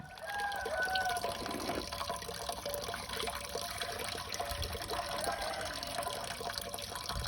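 Sand being washed with water in a container before planting, a steady close sloshing and pouring of water that runs without a break.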